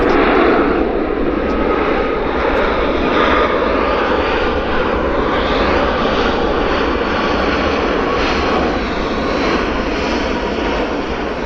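An airplane flares and lands at Vancouver Airport (YVR), its engines a loud, continuous roar that fills the whole stretch, steady and close, with no voices.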